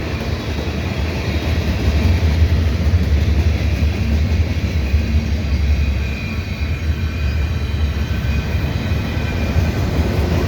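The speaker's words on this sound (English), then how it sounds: "I've forgotten how loud the rumble of these trains can be." A CN mixed freight train with gondolas and tank cars rumbles past the Dorval ramps in Montreal, a heavy, continuous low roar of wheels and cars close by, steady throughout with no talk.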